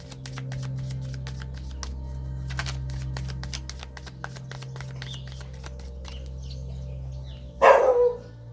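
A dog in the countryside lets out one short, fairly loud burst of barking near the end, after a long stretch of quiet ticking and shuffling close by.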